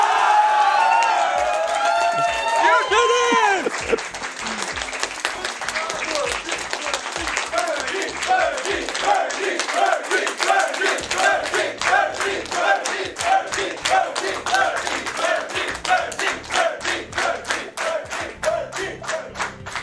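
A live crowd at a speedrun marathon cheers and applauds loudly, starting with whoops and shouts, then settling into sustained, dense clapping that continues to the end, with people talking throughout.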